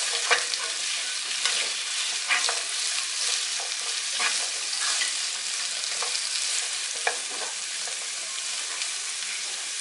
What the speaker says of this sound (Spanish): solamente van a estar un poco salteadas, un poco fritas nada más